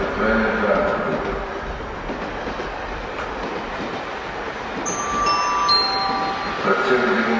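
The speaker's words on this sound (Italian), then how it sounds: "attenzione al terzo binario, treno in transito" A train passes through a station with a rumbling roll, then thin metallic wheel squeals ring out near the end, at moderate distance and alone.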